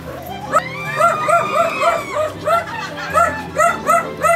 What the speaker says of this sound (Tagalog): Hindi lang sila yung umihiyaw, pati nga rin yung aso.